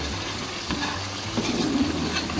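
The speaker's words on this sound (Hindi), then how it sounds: "मैं इनको अच्छी तरह भून लूँगी गोश्त को।" Chicken pieces with slit green chillies fry and get stirred in a karahi, giving a steady close sizzle with scraping stirs and no talk.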